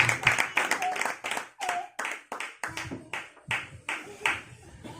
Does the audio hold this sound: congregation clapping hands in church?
yes